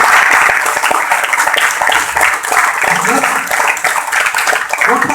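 An audience at a motivational wellness meeting in Rewari claps steadily, loud and dense throughout, with a voice speaking briefly under the applause.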